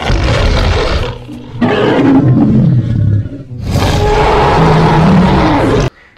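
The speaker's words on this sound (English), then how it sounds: "Wow, so cute lion." A lion roars loudly and close up in several long, rough bursts separated by brief pauses, with no talking over it.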